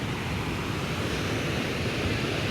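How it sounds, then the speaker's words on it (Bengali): Surf breaks and rushes continuously on the beach at Mandarmani, a loud, broad wash of wave noise mixed with wind buffeting the microphone, without voices. "দেখো ঢেউটা একবার"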